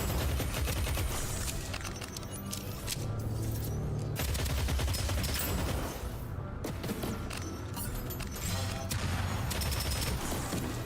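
Rapid gunfire from a weapon in a Monster Train run, dense bursts of shots with brief pauses, loud and continuous throughout.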